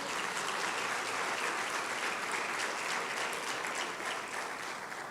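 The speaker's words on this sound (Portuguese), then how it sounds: "Você pode aplaudir o nome de Jesus?" Congregation at a Quadrangular church service clapping steadily for the name of Jesus, a dense, sustained wash of applause throughout that eases slightly toward the end, with no voices over it.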